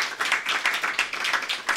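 Audience at a presentation of a student performance report claps in a loose, moderately sized round, with separate hand claps audible at close range.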